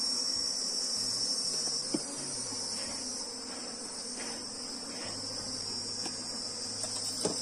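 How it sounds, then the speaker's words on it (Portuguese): Apis honey bees buzz steadily around an open hive box, a dense continuous drone with faint scattered clicks and knocks beneath it. "Aqui tem muita abelha na lateral."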